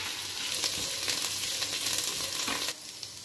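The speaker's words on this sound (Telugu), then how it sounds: "ఇప్పుడు కొంచెం కరివేపాకు, కొంచెం కొత్తిమీర, కొంచెం పుదీనా వేసుకొని బాగా వేయించుకున్నామండి కాసేపు" Curry leaves, coriander and mint fry in a pan with a steady, close, crackling sizzle throughout, easing slightly near the end.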